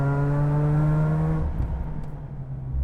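A 2008 Mazda RX-8 40th Anniversary rotary engine screams at high revs on a mountain road, a strong harmonic whine that holds and then drops away abruptly into a low rumble as the throttle closes.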